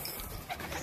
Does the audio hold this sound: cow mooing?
no